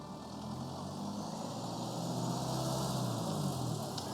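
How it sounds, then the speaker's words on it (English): Rough, uneven car engine in the video game Tiny Bookshop, a steady low droning rumble held close and fairly loud for a few seconds with no talk over it. "That car sounds so ropey."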